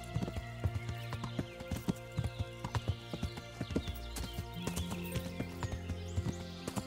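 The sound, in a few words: horse hooves and neighing in video game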